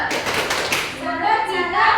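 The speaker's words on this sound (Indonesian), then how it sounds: "Tepuk salut untuk Kak Gita." Children in an Indonesian primary school classroom give a 'tepuk salut' salute, clapping together in a loose rhythm with mixed young voices calling over the claps.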